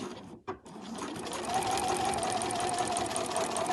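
A sewing machine stitches seams on a fabric overlocker cover, pausing briefly before starting again with a steady, fast, close whirring run.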